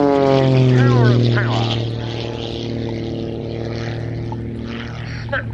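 A propeller aerobatic airplane drones loudly through snap rolls at an air show, its engine pitch sliding and wavering as it climbs and turns, while an announcer talks over it.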